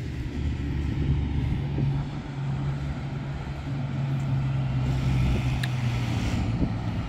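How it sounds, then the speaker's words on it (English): A rock truck arrives to deliver gravel at a barn build site, heard as a steady low engine rumble that swells gradually as the truck draws nearer, continuous and fairly loud with no talk. "And I hear my rock truck coming."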